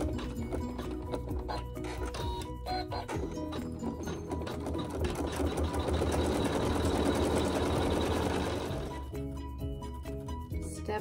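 A sewing machine quilts a fabric block, its close whirring stitch growing busier and louder in the middle before easing off near the end, with faint clinks around it.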